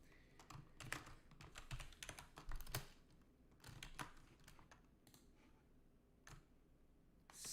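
Someone types on a computer keyboard nearby in quiet, uneven bursts of soft key clicks with brief pauses, and no talking.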